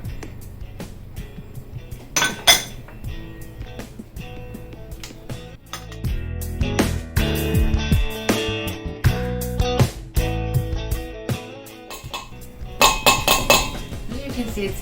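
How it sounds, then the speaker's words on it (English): Dry ingredients are beaten by hand into a thick chocolate cake batter in a tiny kitchen, making repeated close clinks and scrapes of utensil against bowl in an uneven rhythm, with someone speaking at times. "Now I'm going to mix in the rest of my dry ingredients."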